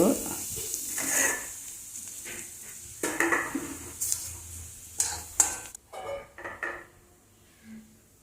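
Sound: mustard seeds and urad dal sizzling in oil in a kadai

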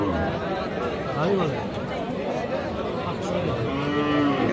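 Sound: cattle at a livestock market

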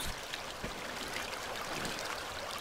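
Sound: river stream flowing near a dam

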